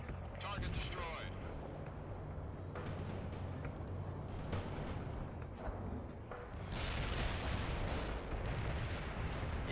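Mortar rounds land in the video game World in Conflict, several booming impacts and sharp cracks amid continuous battle rumble that swells louder near the end, with voices talking over the combat.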